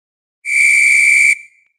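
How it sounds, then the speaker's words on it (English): A single sharp sports referee whistle blast, loud and shrill, held steady for just under a second before stopping cleanly with a short fading tail. "Where's the sports whistle?"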